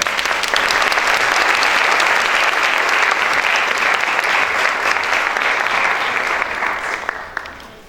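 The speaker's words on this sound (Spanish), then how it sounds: "Le damos un aplauso, por favor." A lecture audience at an architecture school forum applauds, a loud sustained roar of many hands clapping that holds steady, then thins out and fades with a few last claps near the end.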